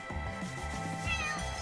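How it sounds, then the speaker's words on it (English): A cat meows in the video game Chained Echoes, one short, close, clear call over quiet game background music. "Cat."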